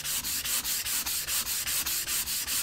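Hand sanding of a wood panel along the grain for a pyrography portrait produces a steady back-and-forth scratching rhythm of about a dozen even strokes, close and clear with no talk.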